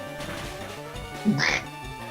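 A human voice imitates a duck's quack once, a short nasal honk rising above a steady background of Pokemon FireRed game music.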